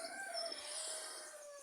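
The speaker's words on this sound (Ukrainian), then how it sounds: "Та задовбали ті кури." A rooster crows nearby in a long, drawn-out call, with faint clucking underneath.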